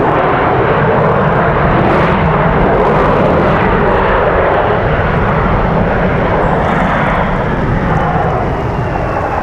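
A passenger airplane at Raleigh-Durham International Airport roars loudly and steadily throughout, a dense broadband engine rumble that stays near and constant with no talk.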